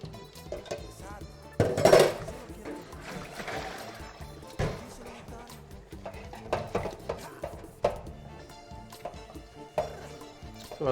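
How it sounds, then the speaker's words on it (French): Dishes are washed in a home kitchen: scattered clinks and knocks of plates, pots and cutlery with running, trickling water, one louder clattering burst early on, then irregular nearby rattles. "On en profite l'instant vaisselle."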